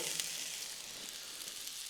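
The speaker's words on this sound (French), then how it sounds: "on va juste les sauter un petit peu" Butternut squash and onions sautéing in olive oil in a pan give a steady, soft sizzle that holds even throughout, with no voices.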